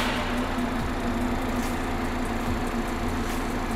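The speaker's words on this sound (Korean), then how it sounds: "엔진 소리 일정하네요" A BMW 5 Series (G30) 530i xDrive engine idles steadily nearby, a continuous even rumble with no change in pace and no talking.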